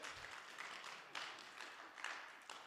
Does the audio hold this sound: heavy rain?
no